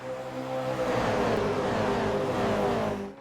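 A pack of Toyota GR86 race cars roars past in a Coupe GR86 Boost Cup race, a loud, dense engine drone with rising and sliding pitch that holds for about three seconds before fading.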